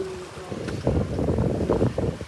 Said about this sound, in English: And the wind is definitely dying now